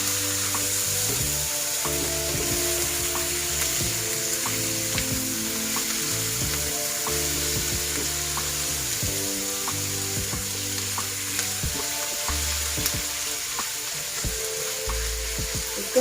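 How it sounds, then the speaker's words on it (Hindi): Onion and chicken fry in a pan for a chicken pasta dish, a loud continuous sizzle running throughout, with a steady low hum underneath and no voices. "इसके अंदर हम थोड़ा सा प्याज फ्राई करते हैं और साथ ही हम अपना चिकन डाल देते हैं"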